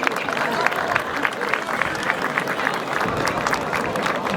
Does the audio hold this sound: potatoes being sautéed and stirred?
no